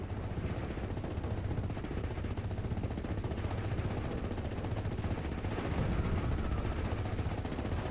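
MG34 machine gun fire in Steel Division 44, a steady dense rattle of rapid shots that continues throughout, blended with distant battlefield rumble at a moderate, even level.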